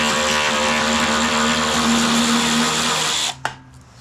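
A power tool drives bolts into a John Deere LA105 lawn tractor under repair: a loud, steady whirring motor whine runs close and continuous for about three seconds, then cuts off with a sharp click and fades into quiet.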